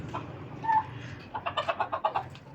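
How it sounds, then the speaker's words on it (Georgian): Rooster in a yard giving a quick run of short, rhythmic clucks, close by and moderately loud, after a brief higher call. "აი მამალი მოგდევს გოგა"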